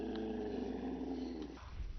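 A dog in the video game Fallout 4 growls in a low, steady rumble that runs for over a second before breaking off, close and fairly loud, with no voices.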